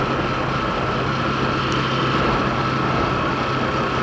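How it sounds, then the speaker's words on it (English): Steady engine drone of a motorcycle engine braking after a downshift into third gear on a gravel road, a continuous even hum with a low tone held throughout and no voices. "I'm going to drop it back down to 3rd, let the engine do the braking."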